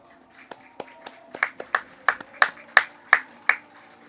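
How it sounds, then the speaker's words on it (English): Sparse clapping greets the North all-star team at a baseball all-star game, a handful of separate claps that grow a little louder toward the end and echo through an open space. "Big round of applause right there for your North team."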